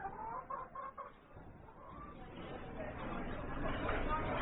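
Hens cluck from a farmyard flock in a radio drama, a brief run of rhythmic clucks at the start, then dense, noisy farmyard ambience that swells gradually, with no clear voices.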